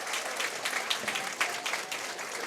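Parents in a bowling center crowd applaud a youth bowler, a lively burst of many hands clapping at close range that carries on for the whole moment.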